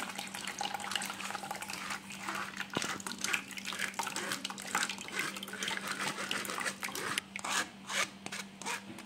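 Watermelon juice is strained through a sieve, with close wet rubbing and scraping against the mesh and a dribble of liquid, irregular and fairly quiet with a low hum beneath.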